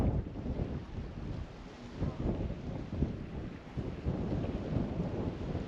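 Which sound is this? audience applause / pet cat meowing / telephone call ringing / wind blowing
wind blowing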